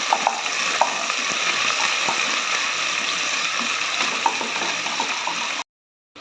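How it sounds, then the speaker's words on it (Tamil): Sliced large onions sizzle gently in a pan over low heat while being stirred, a steady frying hiss with occasional scraping clicks of the spoon, close and continuous before cutting off at the end. "பெரிய வெங்காயம் நீல வாக்கில் கட் பண்ணது ஒன்று போட்டுக்கலாம் அடுப்பை சிம்மில் வச்சு நல்லா கிளறி கொடுத்துக்கலாம்"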